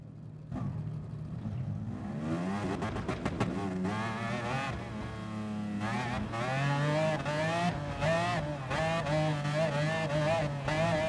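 A race car engine in the video game Gran Turismo Sport, a Ram Shadow, revs up through rising gear pulls, its loud buzzing, whiny note climbing and dropping steadily across the run with no voices over it.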